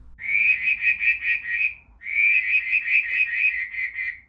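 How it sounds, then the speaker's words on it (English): Tiny tree frogs call in two rapid pulsing trills, each a buzzy, whistle-like series of short notes lasting about two seconds, loud and close with a brief pause between them. "So I have these frogs."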